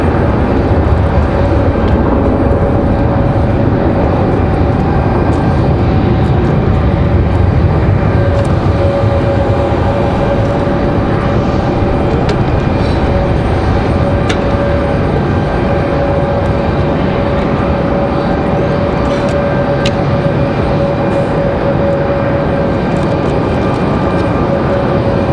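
An Air Canada airliner departs Raleigh-Durham airport with a sustained, loud jet roar that holds steady throughout, no talk over it.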